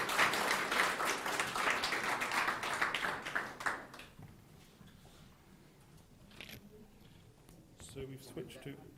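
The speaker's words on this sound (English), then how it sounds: "can we give a round of applause for Tom and Ron?" Applause from the audience at a mergers and acquisitions research conference, a dense burst of clapping for about four seconds that fades into a quieter room with some talking.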